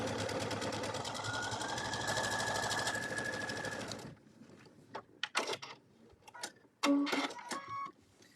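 A sewing machine running twin needles stitches a row of pin tucks at a steady whir for about four seconds and then stops, leaving a few soft clicks and handling knocks.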